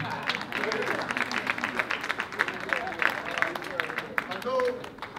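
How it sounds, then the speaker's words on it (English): Crowd clapping at a Ghanaian citizenship anniversary celebration, a steady patter of many hands with voices talking and calling out over it throughout. "Can I get a clap for that, please?"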